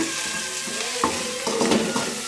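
Food sizzling and frying in a pan just after salt is added, a steady close hiss with a few scraping stir strokes and light clinks against the pan.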